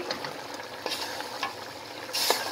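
Boiled meat for an Arabian kabsa being stirred and mixed in a pot, a steady scraping, shuffling texture with a few sharper scrapes and a louder burst near the end, no voices.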